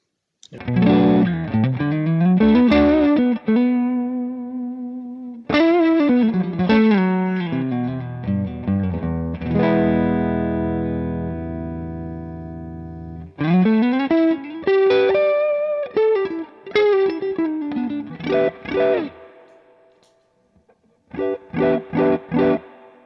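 Electric guitar played through a Coppersound Strategy preamp and clean boost pedal with the guitar volume rolled down, giving loud, mildly driven chords and single-note phrases in bursts with pauses and ringing sustain.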